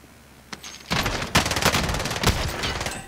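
Rapid bursts of gunfire crackle in Call of Duty Warzone, a shotgun among the close, sharp shots, with a single report first and then dense repeated blasts packed together for a couple of seconds.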